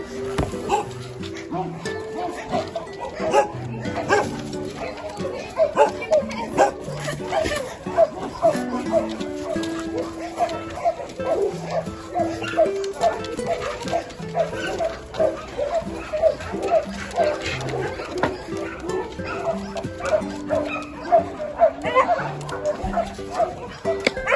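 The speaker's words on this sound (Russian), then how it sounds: "Как тебе собачка?" Several dogs at the Hostomel shelter for homeless animals bark, yip and whimper throughout, some loud and near, others farther off, while people talk over the steady chorus.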